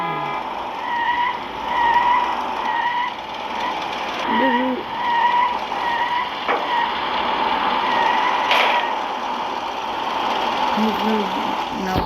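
A car drifts with repeated tire squeals and skidding, rising and falling in short bursts over a constant engine drone.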